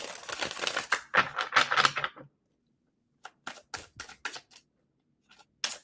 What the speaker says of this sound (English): Let me shuffle these